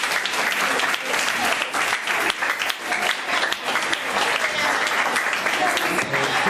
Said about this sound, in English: Give a clap of applause.